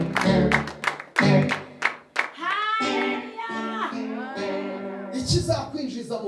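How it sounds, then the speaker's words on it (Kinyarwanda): A crowd at a church service breaks into a few loud bursts of hand clapping near the start, then a voice carries on singing or preaching over the gathering, with another brief patter of claps near the end. "Komera data amashyi menshi cyane."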